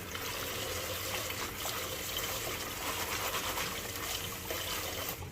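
Running water trickles and splashes steadily as fresh chives are rubbed and rinsed by hand in a kitchen, close and continuous with no talk.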